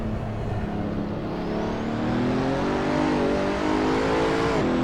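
A powerful hypercar engine revs and climbs in pitch as it accelerates hard, loud and close, with a smooth rising whine throughout.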